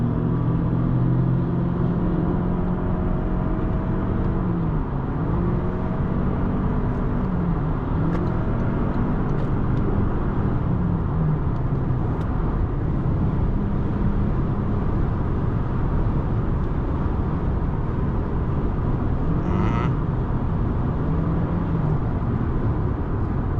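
A 2025 Toyota Camry SE cruising on a highway in sport mode gives a loud, constant engine and road drone inside the cabin, with slight swells in pitch and no talking.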